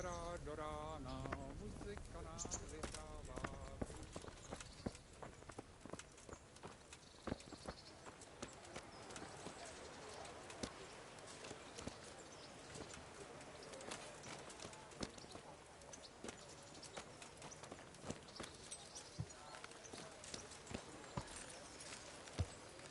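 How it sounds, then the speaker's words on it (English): Horses clip-clopping at a walk in a medieval video game as mounted riders set out, steady hoof beats continuing throughout with voices speaking over them. "Get your horses mounted up and let's ride out, on the double."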